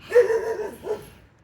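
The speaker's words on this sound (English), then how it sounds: "Sorry, change because of neighbor dog." A neighbour's dog gives one short bark followed by a softer yelp, fairly faint and set against an otherwise quiet room.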